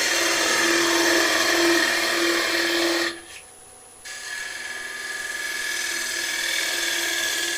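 A bowl gouge cuts spinning wood on a lathe, its wing engaged for a steady, loud whirring scrape that drops out briefly midway before resuming.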